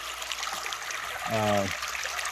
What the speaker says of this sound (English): We've crossed, I don't know how many of these, countless little streams like this today.